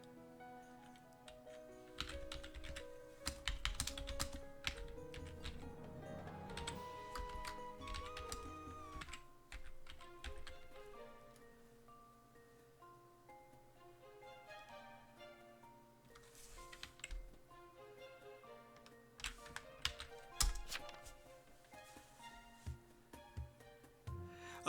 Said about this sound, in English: Oh, I'm missing all of this because I'm typing.